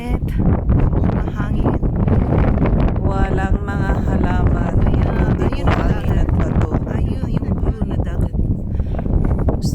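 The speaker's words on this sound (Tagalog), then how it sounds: "Medyo malakas ang hangin" Strong, dusty desert wind in Marsa Alam, Egypt roars and buffets the microphone continuously, a loud rumbling rush, with voices briefly talking underneath.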